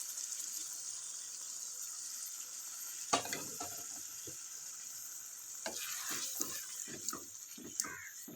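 Chicken white karahi with yogurt sizzles in a pan with a steady bright hiss, joined by several scraping stirs and clatters of a spoon partway through.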